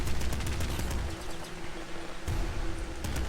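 Sustained automatic assault rifle fire from a video game, with rapid bursts of shots and a brief lull before the firing resumes, loud and close with no talking.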